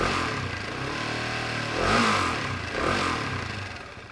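A motorcycle engine runs steadily during a fuel pressure check, with two throttle blips swelling the revs around the two- and three-second marks before settling back to idle.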